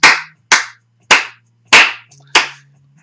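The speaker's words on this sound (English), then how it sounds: "Another clap, guys." Five sharp hand claps ring out loud and close, spaced about half a second apart, each with a short decaying tail and a low steady hum underneath.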